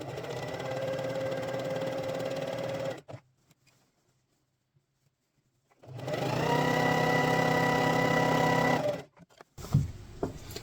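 A sewing machine stitches fabric for a LARP shield cover in two steady, loud runs of several seconds each, separated by a quiet pause, with a few small handling clicks at the end.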